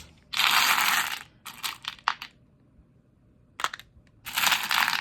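Handful of small glass and plastic beads scooped up by hand, giving several bursts of loud rattling and clicking, with a long rustle at the start, short clatters in the middle and another sustained rattle at the end.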